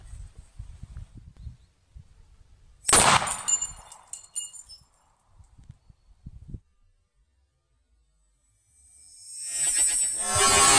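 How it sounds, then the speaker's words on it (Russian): A large gas-filled light bulb bursts with a single loud bang that leaves a crackling tail, set between quiet stretches of soft knocking and rustling. A bright hiss builds up again near the end. "вот это бабахнула лампочка с газом"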